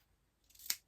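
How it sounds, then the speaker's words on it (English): Scissors snip once through a snowman's fabric scarf, a quick close crisp cut that rises to a sharp peak near the end of a short, otherwise quiet moment indoors. "And just trim his scarf"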